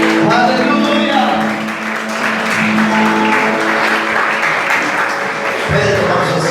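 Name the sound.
church congregation applause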